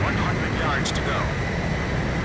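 Roaring jet fighter engines hold a steady, loud wash throughout aerial refueling in the Ace Combat 5 video game, with a brief higher whine midway.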